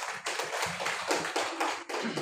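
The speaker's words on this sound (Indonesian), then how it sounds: "tepuk tangan untuk kita semua" A group of students in a classroom claps hands together in several short bursts, loud and close, with brief gaps between them.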